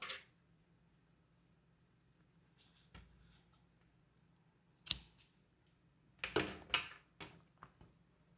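Scissors snip off crochet yarn ends on a finished flower, a few sharp close cuts clustered near the end, set against quiet with faint handling noises.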